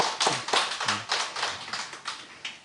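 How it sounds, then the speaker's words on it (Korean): A small group claps to welcome visitors from Daejeon at a church gathering, a string of uneven, sharp hand claps close by that taper off within a few seconds, with no voices over them. "박수 한번 우리 환영하겠습니다"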